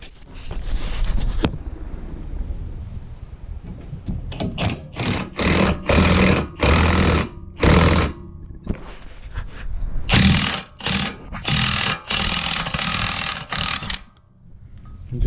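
Pneumatic impact wrench driving a large socket to remove a ball joint on a Ford F150, heard as loud, close rattling bursts of hammering that start and stop repeatedly across the clip.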